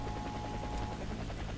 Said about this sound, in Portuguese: Na hora que o helicóptero posa, tem essa poeira aí muito louca